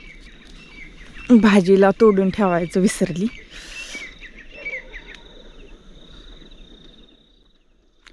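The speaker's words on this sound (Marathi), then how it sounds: "पक्ष्यांचा मस्तपैकी चिवचिवाट चालू आहे सगळीकडं" Birds chirp and tweet faintly in the background at dawn in a village while someone speaks over them, the calls lingering after she stops.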